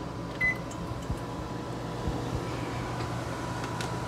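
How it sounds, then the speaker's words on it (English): A microwave oven powered by a Generac IQ3500 inverter generator hums steadily at low level, a constant drone with faint intermittent clicks and no talking. "Let's turn on the microwave,"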